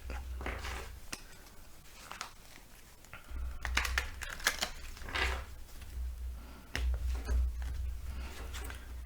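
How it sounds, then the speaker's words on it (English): Papery crinkling, rustling and light tapping, irregular and close, as a deck of tarot cards is shuffled and handled, with no voices. "we shuffle it a little first."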